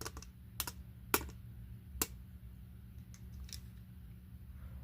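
Several quick, sharp clicks sound as keys are pressed on the electronic keypad of a Tobot W toy robot, spaced irregularly over a quiet, low hum.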